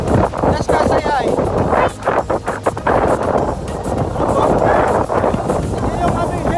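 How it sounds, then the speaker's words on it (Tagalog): Strong wind gusts across a beach on Boracay, roaring and buffeting hard against the microphone and nearly drowning out the people talking nearby. "ang lakas ng hangin dito"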